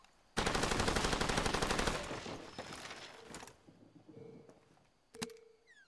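Rapid automatic gunfire in the video game Far Cry, a loud sustained burst of about a second and a half that trails off into softer clatter, followed by a sharp single crack near the end.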